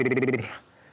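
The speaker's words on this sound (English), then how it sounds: "It's called a lip roll or a lip trill." A voice does a brief lip trill as a vocal warm-up, a buzzing, fluttering hum lasting under half a second that quickly fades, with no talking.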